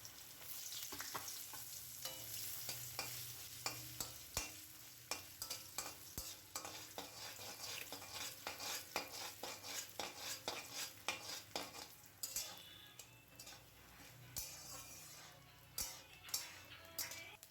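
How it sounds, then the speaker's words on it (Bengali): Grated coconut fries in leftover potato-frying oil for ghugni, a steady sizzle under frequent clinking stirs of a utensil against the pan, close and continuous with no voices. "তো নারকেলটাকে এবার খুব ভালোভাবে আমরা ভাজা করে নেব"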